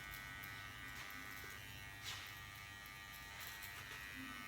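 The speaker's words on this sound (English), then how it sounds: "I love hearing the crunch of the haircut, right? Can you guys hear that?" Electric hair clippers buzz steadily close up while cutting a bald fade, with a brief louder crunch through the hair near the middle and a faint hum underneath, no voices.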